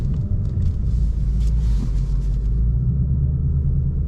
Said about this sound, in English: We're gonna make a U-turn right here.